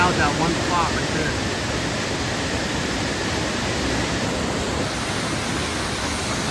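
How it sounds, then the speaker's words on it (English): At Purgatory Falls, water pours from a rock cove beneath an overhanging dome, making a loud, continuous rushing hiss that holds steady from start to finish. "Water comes rushing out that one spot right there."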